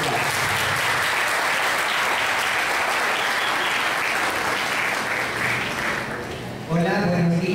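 Loud, sustained applause from a seminar audience greeting the next speaker, dense clapping for several seconds that tapers off before a voice begins speaking.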